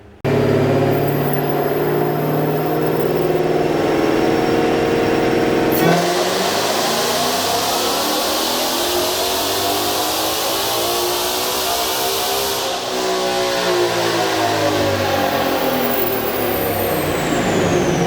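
A 2020 Ford Shelby GT500 with a ported supercharger blower and upgraded pulley, driven on the road: a loud, steady engine roar from inside the car whose pitch sweeps down and up again as it shifts and accelerates, with a high supercharger whine.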